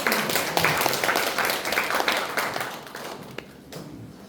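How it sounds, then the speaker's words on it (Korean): An audience at a church seminar breaks into steady applause, dense close clapping that tapers off toward the end. "우리 박수로 청해 듣겠습니다"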